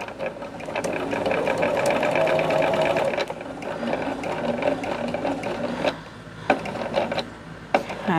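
A sewing machine stitches fabric while a small quilted project is tacked in place, a steady close whirring run that slows and breaks into a few short stitch bursts near the end.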